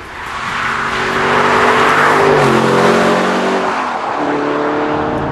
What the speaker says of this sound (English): And the Aston Martin DB9 Sport Pack. British, V12, very pretty.